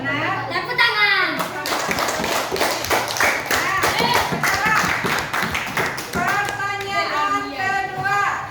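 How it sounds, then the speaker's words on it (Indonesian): Children in a classroom clap their hands together in a lively rhythmic burst, close and loud, mixed with kids' voices and chatter around the claps, with an adult voice speaking toward the end. "Tepuk tangan."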